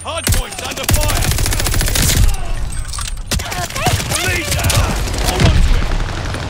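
Rapid automatic gunfire and scattered shots crackle continuously around a contested hardpoint in the online shooter Call of Duty: Vanguard, loud and close, with bursts layered over ongoing combat noise.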